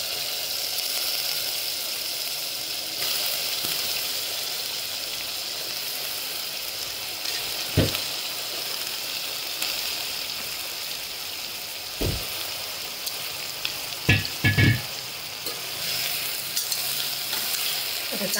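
Washed, chopped eggplant and potato pieces sizzling steadily in a pan for a dry sabzi, with a continuous hiss and a few distinct stirring knocks and scrapes near the end, no voices.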